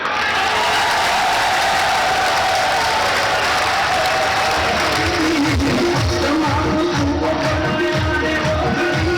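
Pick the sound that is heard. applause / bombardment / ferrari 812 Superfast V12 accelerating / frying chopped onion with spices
applause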